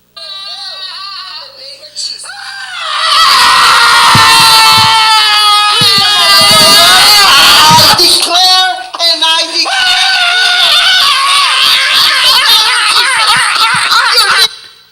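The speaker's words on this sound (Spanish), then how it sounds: "¿Por qué gritan así los demonios?" A crowd of people screams and shouts during a church deliverance prayer: loud, sustained, overlapping cries and wails that swell after a few seconds and stay intense, with voices mixed throughout.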